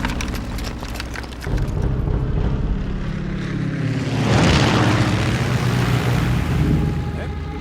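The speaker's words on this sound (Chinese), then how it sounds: "哎，好像是友军的飞机啊！ 连长，后面还有几架日军的飞机。" Warplanes in a war drama fly overhead as a loud propeller-engine drone swells into a roaring, whooshing pass and then holds steady, with voices faintly beneath.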